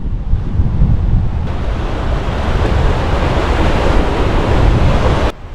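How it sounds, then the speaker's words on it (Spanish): Rough sea waves on the Cartagena coast in Murcia, a loud continuous roar of surf with heavy wind buffeting the microphone, cutting off abruptly near the end. "Hoy estaba un poquito agitado el mar."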